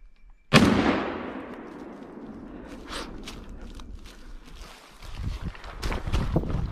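A single loud rifle shot cracks during a driven wild boar hunt in the woods and echoes away slowly, followed by rustling and footsteps moving through undergrowth.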